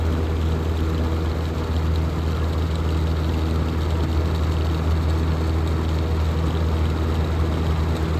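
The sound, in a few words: vintage box fan running on high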